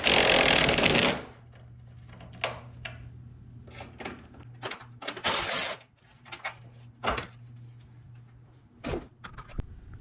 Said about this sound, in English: Now I'm going to go ahead and pop off this receiver dryer.